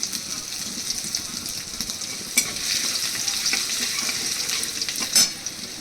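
Ginger tempering in hot oil gives a steady sizzling hiss with light stirring scrapes and a couple of sharper crackles, close and moderately loud.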